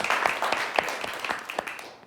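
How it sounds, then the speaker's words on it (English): Audience applause at a live body-language talk show, a moderate scattering of claps with a few sharper individual hits, steady and fading toward the end. "Big round of applause for all of those questions."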